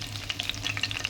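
Garlic frying in heated oil in a pan for a tomato and ivy gourd curry, a close, steady crackling sizzle with sharp pops throughout and no voices.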